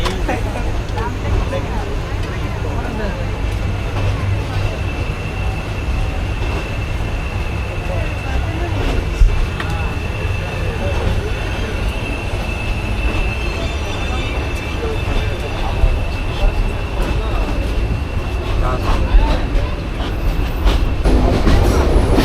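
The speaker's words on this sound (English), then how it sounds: "Train has started." A train in Bangladesh rolls steadily along the rails with a low continuous rumble and rhythmic clickety-clack, heard from inside a carriage with muffled voices around.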